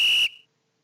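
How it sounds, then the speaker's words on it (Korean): A whistle sound effect picked from a sound library in a coding project plays once: a short, bright, steady tone lasting about a quarter second, then a brief faint tail before silence. "휘슬 호루라기 소리를"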